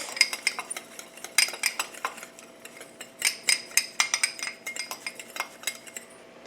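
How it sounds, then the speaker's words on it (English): Spoon stirring and clinking in a bowl of spices for ground chicken patties, a quick irregular run of metallic taps and scrapes close by, continuing throughout without talk. "let me mix up all my little spices"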